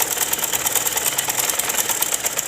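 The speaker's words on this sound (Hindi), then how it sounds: "अब दूसरी साइड से सिलाई लगा लेनी है" A sewing machine runs steadily, stitching the second side of fabric for a ladies' summer sleeve, its fast even whir and needle chatter continuous and close throughout.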